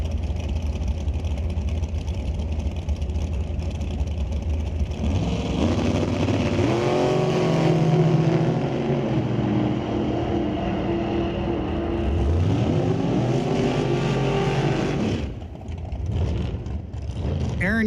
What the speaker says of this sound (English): G. Van Brar in the left lane in a 2016 undercover dragster